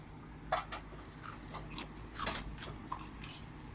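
Crunchy fried binangkal dough balls are bitten and chewed, giving faint, close crisp crunches in a few sharp bursts over a quiet room background.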